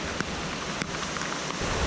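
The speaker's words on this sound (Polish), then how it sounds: "Już to nawet nie powiem, że pada, to leje." Heavy rain pours steadily on a mountain trek toward a waterfall, a dense, loud hiss with occasional sharper drop impacts close to the microphone.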